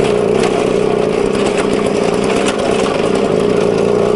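Elektron 150 motor scooter on small 10-inch wheels, ridden in second gear along a rough road: a steady, loud, close engine drone with wind rush layered over it, unbroken throughout.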